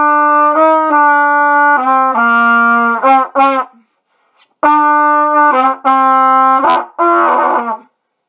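A solo cornet plays short jazzy phrases of bright, held notes, with a brief pause midway before the melody resumes, close and loud.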